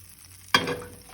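A sudden sizzle as butter hits a hot frying pan over very low heat, then a steady crackling fry that slowly settles, with a faint clink near the end.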